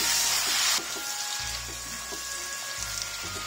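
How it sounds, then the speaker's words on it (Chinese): Braised pork chunks being stir-fried after cooking wine and soy sauce go in: a steady loud sizzle with repeated spatula scrapes and stirs at an even rhythm, no voices. "再倒入适量的料酒、适量的生抽，翻炒均匀。"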